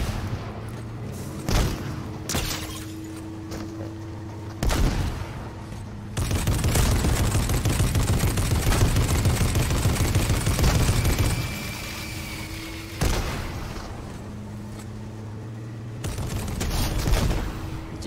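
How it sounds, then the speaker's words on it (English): Gunfire in the video game Fortnite, with scattered shots and a sustained burst of rapid fire through the middle, heard over a low game soundscape with no talk. "Who is shooting?"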